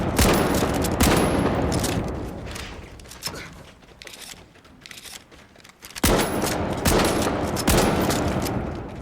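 Lewis gun firing in a video game: loud sustained bursts of rapid automatic fire, a roughly two-second burst at the start, quieter shots and thuds in the middle, then another long burst near the end.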